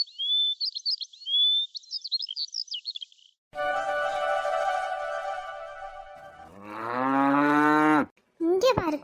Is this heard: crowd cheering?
no